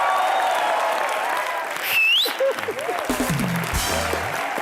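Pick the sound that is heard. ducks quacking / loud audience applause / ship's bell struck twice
loud audience applause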